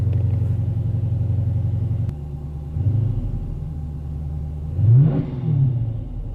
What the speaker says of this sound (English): Give it some full throttle and see if it'll open up all the way